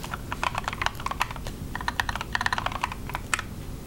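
Steady rapid typing on a computer keyboard, close and fairly quiet, with uneven bursts of key clicks and brief pauses, no talk.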